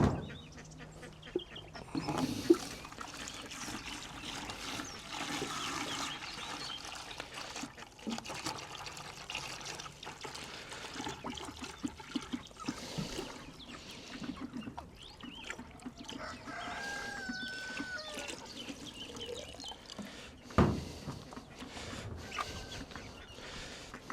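Water trickles and splashes through a plain garden hose with no connections, a faint, uneven dribble with scattered small bumps and knocks, close by and without speech.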